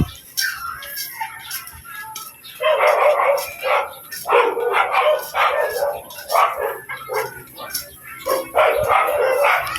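Two guard dogs bark in loud, irregular bursts of sharp barks and yips, close by, with someone talking in between the barks.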